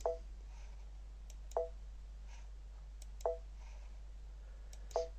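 A computer mouse clicks four times at slow, roughly even intervals, crisp and close but quiet against a steady low hum in a quiet room.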